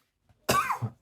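A single short cough, close and fairly loud, from a person pausing during a home library tour, with a brief throat-clearing catch just before it and nothing else around it.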